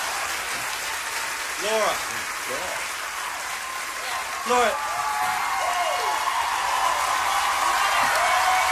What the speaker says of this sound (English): They're still cheering.